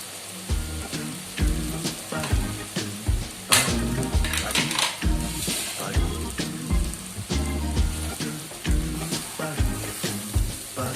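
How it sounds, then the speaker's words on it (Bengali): Semolina sizzles and fries in a hot pan for Bengali-style upma, a steady crackling hiss with occasional stirring scrapes and clinks of a utensil against the pan, close and fairly loud throughout with no talking. "এর মধ্যে সুজিটা দিয়ে দিলাম।"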